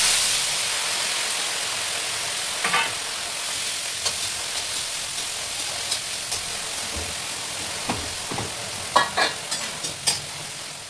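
Spices temper in hot oil in a home kitchen, sending up a constant close sizzle, with scattered sharp clicks and scrapes of stirring that grow more frequent toward the end.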